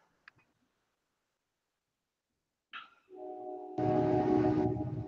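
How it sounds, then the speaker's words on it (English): A train passes close by, its horn blaring in a sustained chord over the rumble of the cars, after a few faint clicks and a brief quiet stretch. "I hear the train."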